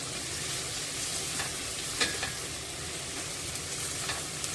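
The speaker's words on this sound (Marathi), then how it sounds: "कांदा परतताना तो फक्त गुलाबी रंग होईल इतकाच परतायचा आहे" Onion and a single hot green chili sautéing in a pan for an Agri-style dry bombay duck curry, a steady close sizzle with faint stirring scrapes and a few soft clicks, no talking.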